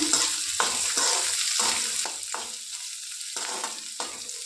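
Onion and garlic sizzle steadily in hot mustard oil, broken by repeated stirring strokes about every half second, close and loud with no talk.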